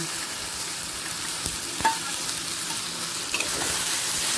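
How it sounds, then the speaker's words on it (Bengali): Marinated chicken frying in a pan with onion and tomato, giving a steady low sizzle with faint stirring scrapes and a couple of small clinks, close and continuous without talk. "এরপর দিয়ে দিচ্ছি ম্যারিনেট করা চিকেন"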